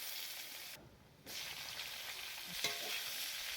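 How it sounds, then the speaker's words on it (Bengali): Tengra fish frying in a wok gives a steady loud hiss and sizzle with stirring scrapes, a short dip in the middle, then the crackle resumes. "এই যে এইভাবে ভেজে নিচ্ছে শাশুড়ি"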